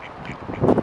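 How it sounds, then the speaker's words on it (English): A duck in a park gives a single short, close quack that swells at the end over light outdoor background noise. "Ducks."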